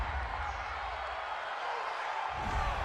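Football stadium crowd at a Chicago Bears vs. Green Bay Packers game, reacting to a roughing-the-passer penalty: a sustained, loud, broad crowd roar that swells again near the end, with no clear voices standing out.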